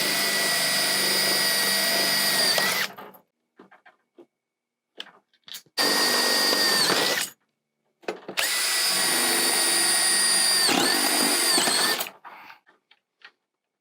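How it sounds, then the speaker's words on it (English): Power drill boring into a commercial storefront entrance door frame, three loud sustained high-pitched whining runs separated by short pauses with faint clicks, close and alone. "I'm going to drill out this side."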